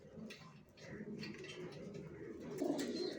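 Young racing pigeons coo softly in a loft, giving low, throaty burbling calls close by over faint shuffling. A voice murmurs quietly in the background.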